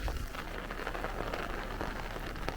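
Moderate rain falls steadily on surfaces during a thunderstorm in Brooklyn, a dense, close hiss of drops with no voices and no thunder standing out.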